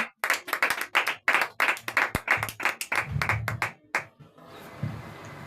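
A church congregation claps in a quick, uneven burst of loud hand claps that thins out after about four seconds, leaving a softer room murmur.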